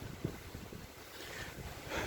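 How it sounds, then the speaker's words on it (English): Wind buffets a microphone outdoors in a park, a steady low rumbling gust noise with a brief thump near the start and rising again toward the end, no voices present. "It's kind of windy out"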